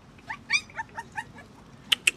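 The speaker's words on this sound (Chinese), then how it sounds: "啊，狗崽子，来，不会伤害你的啊" Newborn puppies found sheltering in a hospital's ceiling gap let out a series of thin, high-pitched whimpers and squeaks, about eight short cries spaced irregularly, close and fairly soft against quiet background.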